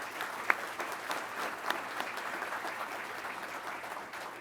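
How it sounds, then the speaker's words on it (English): Audience applause at an Undergraduate Pilot Training graduation ceremony for aircraft maintenance contractors, a sustained crackle of many hands clapping with a few sharper claps standing out, fairly even, gradually easing toward the end. "Let's give them a round of applause, please,"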